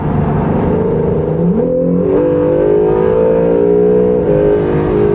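A 2017 Acura NSX engine roars under hard acceleration, its pitch jumping abruptly as the transmission drops from sixth to third gear, then climbing steadily, loud and close from inside the car.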